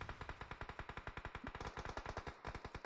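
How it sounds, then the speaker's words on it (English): Rapid automatic gunfire in the battle royale game PUBG Mobile, a fast even burst of sharp shots lasting a few seconds, fairly faint. "We've got shots coming in."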